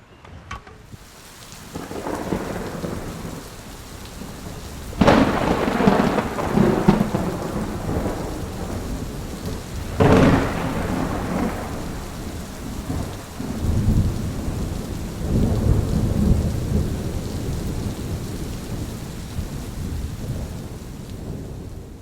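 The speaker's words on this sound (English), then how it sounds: "we've just had the mother of all storms" A heavy thunderstorm at a carp fishing lake, with steady rain drumming down and several loud rolling thunderclaps booming close by, and no talking.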